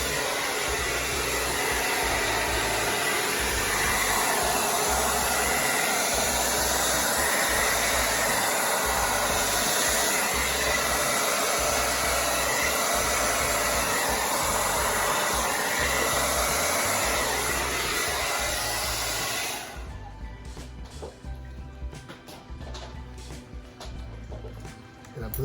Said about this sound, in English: Blow dryer on.